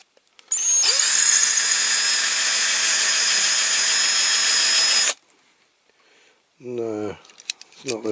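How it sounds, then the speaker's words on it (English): Power drill boring out a rivet on a Corgi Qualitoys turbine toy truck, a loud steady high whine for about four seconds that stops abruptly, followed by someone speaking. "we're going to try with this drill"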